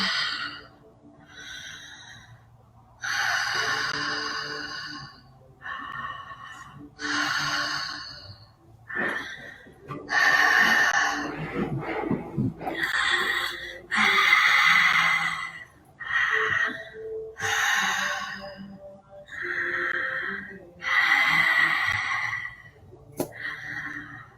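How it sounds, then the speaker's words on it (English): Deep connected breathing in a guided breathwork session, long audible inhales and exhales repeating in a steady rhythm for about twenty seconds, close and fairly loud, with no talking. "let's do 20 connected breaths together like this. Taking a deep breath in and just melting on the exhale"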